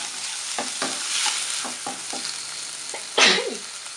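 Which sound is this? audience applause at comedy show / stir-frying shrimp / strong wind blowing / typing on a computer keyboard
stir-frying shrimp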